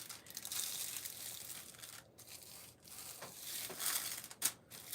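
A plastic bag being handled up close: crinkly rustles and crackles come in uneven bursts with brief pauses, a sharper crackle near the end, fairly quiet and with no voices.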